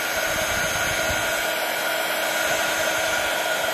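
A heat gun melts embossing powder on an enamel-style plaque, producing a loud, continuous airy whoosh and motor hum that stays even for the whole short stretch.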